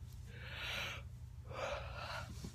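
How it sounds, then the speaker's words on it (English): A person yawns twice while filming a casual talking video, each long breathy inhale-exhale swell lasting about a second, close to the microphone with a steady low hum underneath and no speech. "why do I always yawn when I'm filming videos?"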